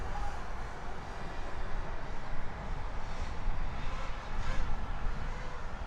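CMW Moneyshot Mini RC airplane flying with its engine running, a buzzing drone at moderate distance that rises and falls in waves as the plane maneuvers, without talk over it.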